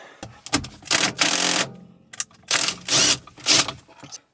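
Bursts of ratcheting and clicking from a hand tool loosening 10 millimeter bolts on the dash of a 2017-2019 Toyota Corolla, coming in short irregular runs with pauses, close and fairly loud.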